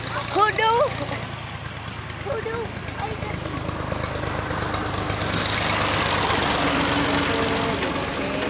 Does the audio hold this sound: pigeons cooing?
no